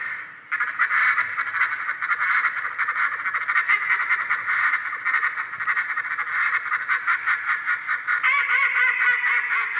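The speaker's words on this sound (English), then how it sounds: "just listen to how he comes out of this power chatter into his high hen" A duck caller works through a warm-up with a sustained, rapid power chatter of tightly packed quacks, then shifts near the end into higher hen notes, loud and close with no talking.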